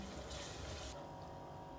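Half a cup of water is poured into a pan of potato masala in a steady broadband rush for about a second, then stops, leaving quieter background hum.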